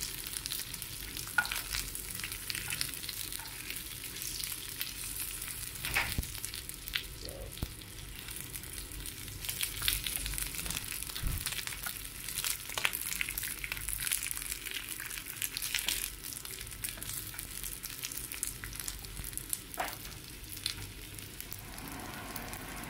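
Dried fish (danggit) frying in a pan, a soft, steady sizzle with scattered pops and crackles and occasional utensil stirs, fairly faint and close, without speech.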